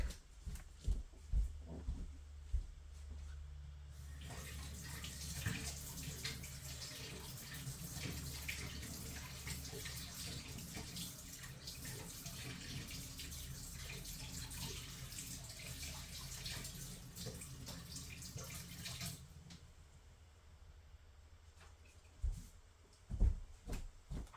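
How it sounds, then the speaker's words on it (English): An embossing folder rinsed under a running tap: a steady gush of water splashing for about fifteen seconds, preceded and followed by small handling knocks and taps nearby. "Let me go rinse this really quick."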